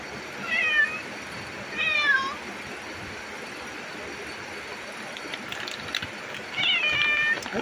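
A cat at a horse stable meows three times, short rising calls spaced a few seconds apart, close and clear over a quiet background with faint clinks.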